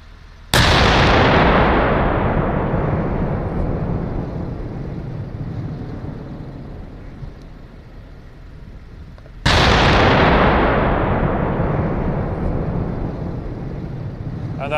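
A Swedish Archer self-propelled artillery system fires two rounds about nine seconds apart; each is a very loud, close blast followed by a long rolling echo that fades slowly.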